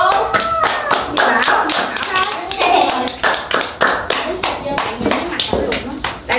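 Family members clap their hands around a birthday cake at a home birthday party, steady close claps mixed with a voice and adults talking throughout.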